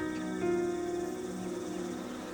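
Honey bees gather around Manuka honey hives on a warm morning, producing a faint, steady, even hum that carries on without a break.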